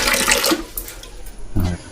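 Strong water gushing from a bidet spray in a campsite restroom at a farm campsite, loud and close, with a brief drop midway before the flow surges again.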